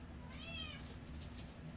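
A kitten gives a short, thin, high-pitched meow with a rising then falling pitch, faint and close against low room noise, followed by a few brief high squeaks, with no talking.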